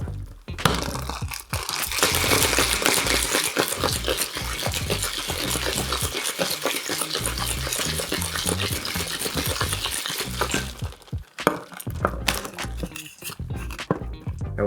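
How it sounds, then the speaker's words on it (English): Ice rattles hard inside a locked shaker tin, a steady rapid shaking of a bourbon cocktail that runs loud for about ten seconds, then stops and leaves a few scattered clinks. "Add the small tin to the big tin, lock it, give it a good shake."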